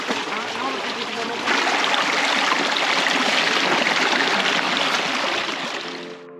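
River water rushes steadily around a family wading through it in Morocco, a dense, loud, continuous flow that swells after the first second and carries on without voices, fading slightly at the end.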